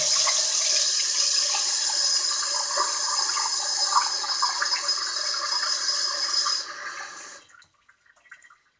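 About two cups of water pour steadily into a 4-quart crock pot for a pork loin, a continuous splashing stream for several seconds that thins and trickles before stopping abruptly into quiet, with no talk.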